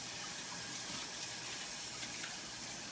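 Tap water runs steadily from a faucet while hands are washed during a home cooking session, a soft continuous hiss with no talk over it.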